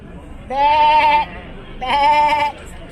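A human voice imitates a sheep's bleat twice, two wavering nasal baa calls roughly a second each, loud and close against faint background noise.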